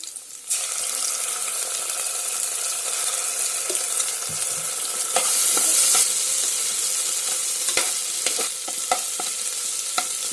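Browned onion fries with ginger garlic paste in a pan, giving a loud, steady sizzle that starts abruptly and runs throughout, with occasional stirring clacks; no talking.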